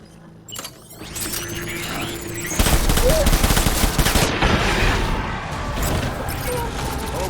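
Gunfire in the video game Death Stranding: after a quieter opening, a sudden burst of rapid, loud shots breaks in and continues as a dense clatter for several seconds.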